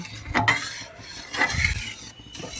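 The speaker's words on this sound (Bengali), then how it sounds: "নাড়িয়ে যান নাড়িয়ে যান ভালো করে নাড়িয়ে যেতে হবে" A spoon stirring homemade tomato sauce in a pan, with a few scraping and clinking strokes against the metal, spaced out over a faint sizzle, close and moderately quiet.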